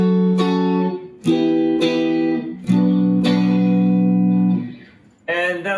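Guitar chords strummed without muting the strings, four sustained ringing strums that let each chord blur into the next, then a brief final strum, played loud and close.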